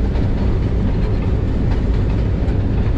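Steady, loud rumble and rhythmic clatter of wheels on rails, heard from aboard the AC Standard class of the 12DN Hazara Express passenger train approaching Rawalpindi, continuous with no voices.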